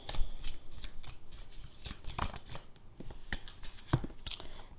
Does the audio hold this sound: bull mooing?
no